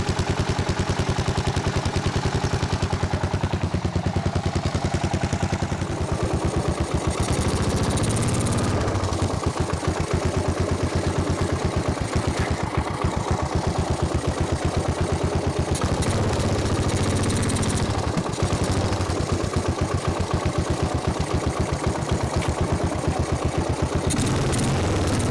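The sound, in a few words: 1995 Suzuki Savage 650 motorcycle engine idling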